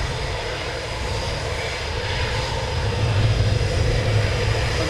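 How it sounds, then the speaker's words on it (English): An F-35B fighter jet flies in toward RAF Coningsby, a loud, continuous broadband roar that builds steadily over several seconds, with wind buffeting the microphone and no voices. "F35 inbound."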